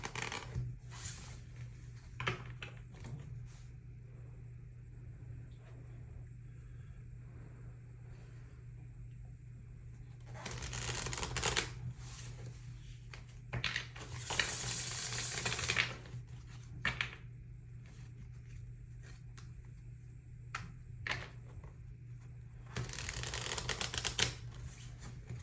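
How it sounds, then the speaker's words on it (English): Tarot cards shuffled by hand in a few quick bursts of riffling and flicking, close and fairly loud against a steady low hum, with quieter handling between. "I'm going to do a quick shuffle."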